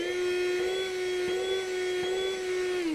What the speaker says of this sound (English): I am impressed with this little vacuum cleaner. It's easy to use, only has an on-off speed and has quite a bit of suction to it as well